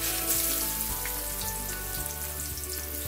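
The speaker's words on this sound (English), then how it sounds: "we will be shallow frying this, so you don't want to add too much of oil" A seer fish steak shallow frying in hot cooking oil, producing a dense, even sizzle with light spitting crackles, steady and near for a few seconds, while a low tonal hum runs underneath.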